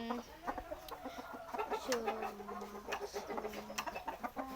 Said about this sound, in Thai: ก็เป็นไก่เชิงนะครับ ตัวนี้นะครับ